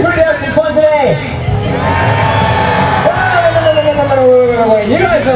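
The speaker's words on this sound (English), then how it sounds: "You guys are one of the loudest crowds at monster trucks, man." A crowd at a Renegade Monster Trucks show in Gaithersburg, Maryland whoops, yells and cheers loudly and continuously, while an amplified voice calls out over the noise.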